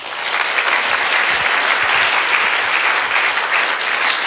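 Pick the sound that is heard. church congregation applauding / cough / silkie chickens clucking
church congregation applauding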